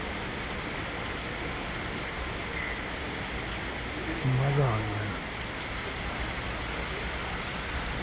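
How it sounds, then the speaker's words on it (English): Light rain drizzles outside a home, a steady, soft, even hiss of falling drops throughout. A person briefly exclaims partway through. "this beautiful drizzling"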